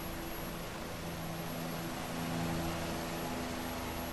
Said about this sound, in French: on dirige l'hélicoptère